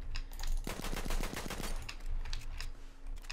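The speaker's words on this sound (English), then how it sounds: "As for the pistols, the first one available to this class is the Taschen pistol" Taschen pistol M1914 firing in Battlefield 1, a burst of rapid sharp shots clustered in the middle, loud and close over steady game background noise.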